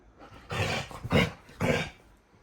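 A dog growls close by in three rough, throaty bursts, each rising and fading, with short pauses between them and no talking over the sound.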